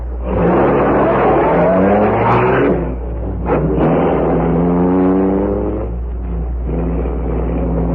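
A car engine revs loudly and pulls away, accelerating through rising gear changes and then fading, as a sound effect in an old radio drama. No voices are heard.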